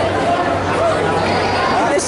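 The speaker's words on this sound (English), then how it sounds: "That is a crowd." A dense crowd at the Connecticon 2017 convention fills the space with constant, loud, overlapping chatter, an unbroken babble of many voices close around.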